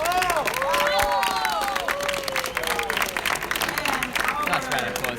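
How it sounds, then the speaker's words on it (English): Crowd applause and cheering at the 2017 Pokémon Oceania International VGC Seniors final, steady and dense for several seconds with an announcer's voice talking over it. "Nice round of applause here from the crowd."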